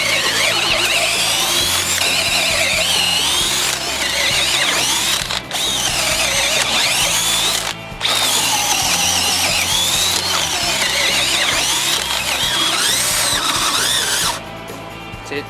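Hitachi brushed and brushless drills bore holes into LVL timber, a loud continuous whining drive with brief drops between holes, running steadily close up with no talk.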